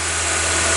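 A VW Golf Mk3 engine is held steady at about 2500 rpm, giving a continuous, even mechanical drone with a strong low hum and a hiss of broadband noise, heard up close and alone.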